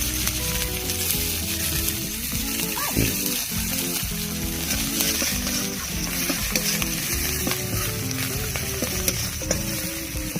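Chopped onion fries in a pan with garlic already cooking, a loud, dense sizzle running throughout with occasional clinks and scrapes of stirring.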